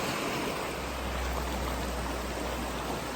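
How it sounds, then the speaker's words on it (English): A river flowing around boulders in a national park near Gatlinburg, Tennessee, heard as a steady, close, broadband rush of water that holds level throughout with no talking. "standing on a boulder in the middle of the river."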